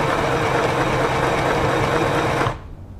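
Singer Pixie Plus sewing machine stitching a zigzag, a fast steady mechanical whirr close by that runs continuously and then stops abruptly.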